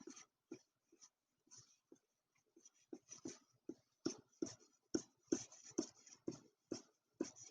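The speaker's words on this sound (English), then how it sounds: "using my pencil to kind of flick my pencil so that we create these thorny type lines" A pencil makes quick flicking strokes on paper while drawing thorny lines, a series of short dry scratches that start sparse and grow denser and faster, close and fairly soft with no talking.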